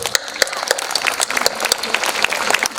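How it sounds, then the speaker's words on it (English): An audience at a school diamond jubilee celebration claps in a dense, steady burst of applause that continues throughout, close and lively. "Let us give a round of applause."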